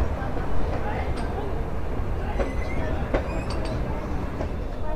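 A meter gauge goods train rumbles past at Dudhwa station, a continuous low rolling rattle with occasional squeals and clanks from the wheels. It is close and steady, with someone talking over it.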